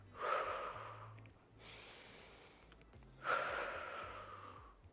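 Two forceful breaths during a resistance band chest exercise: a long exhale, a quieter inhale, then another strong exhale, close and alone with no talk.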